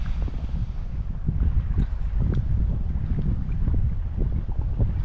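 Strong wind buffets the microphone in steady low roaring gusts while kayaking across Tuscarora Lake in northeastern Pennsylvania, loud and continuous with no talk.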